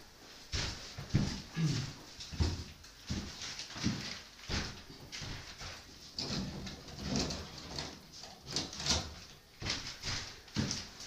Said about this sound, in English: A lot of creaking going on